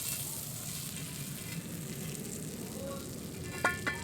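Butter sizzles on a hot tawa griddle as a steady, soft crackling hiss, with a couple of faint clinks near the end.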